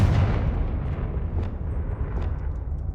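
A loud Confringo blasting spell from Hogwarts Legacy erupts in a deep rumbling explosion that stays heavy for a few seconds, with faint pops crackling within it.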